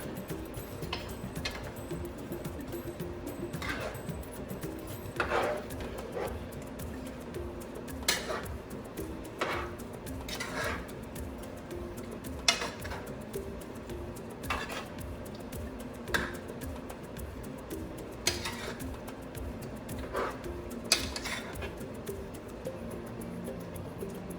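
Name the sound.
stirring curried vegetables in a pan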